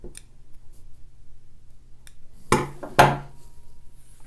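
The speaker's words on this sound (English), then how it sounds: "I'm just going to cut off that yarn there" Two crisp snips of scissors cutting off yarn at a sewing table after pressing fabric, close and distinct, spaced about half a second apart against a quiet background.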